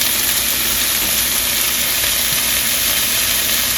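Sausage pieces sizzle and crackle in a frying pan during jambalaya prep, a dense, steady, close hiss that runs evenly throughout with no voices.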